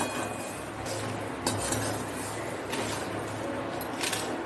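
Whole spices such as black pepper and cloves are stirred and roasted in a pan for pav bhaji masala, giving close metallic scrapes and light rattling clinks at an irregular pace.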